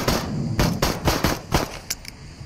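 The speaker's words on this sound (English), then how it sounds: "Shoot at the targets until the mag is empty." A pistol fires at targets in the VR game Into The Radius, roughly six or seven sharp shots in quick succession until the magazine runs dry, followed by a couple of lighter mechanical clicks, close and loud with no voice.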